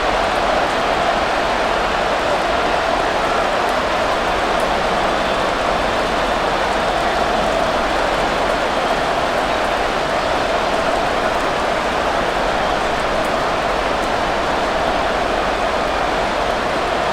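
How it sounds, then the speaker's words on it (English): Steady heavy rain in the Madden NFL 24 video game hisses loudly and evenly with no break for the whole stretch, with no talk over it. "we'll see if this rain affects the team's decisions going forward"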